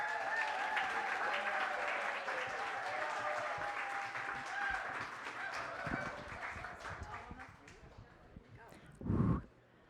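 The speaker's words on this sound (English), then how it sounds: "give a warm round of applause for Marian Dodds" An audience at a comedy show applauds as comic Marian Dodds is introduced, the clapping mixed with cheering voices and fading toward the end before a brief thump.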